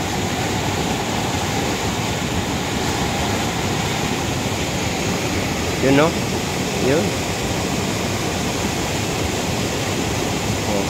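Steady rushing noise of heavy typhoon rain and flowing water fills the background as a voice briefly speaks a couple of words nearby.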